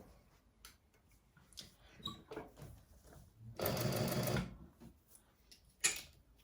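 Sewing machine stitching a handbag lining, soft intermittent mechanical ticking and short stitching runs with one steadier burst near the middle, fairly faint and close.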